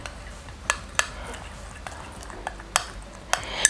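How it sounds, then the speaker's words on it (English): A utensil stirring a tomato and potato mixture in a pot, heard as a handful of sharp metallic clinks and scrapes spaced irregularly over a quiet background. "I'll go ahead and stir this"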